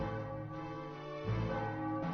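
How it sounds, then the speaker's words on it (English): A bell rings in the Final Fantasy 9 video game, sounding in the theatre district as a performance ends; a sustained, resonant tone holds steady, then swells louder midway and continues alone with no talk. "A bell's ringing. The performance in the theatre district must have just ended."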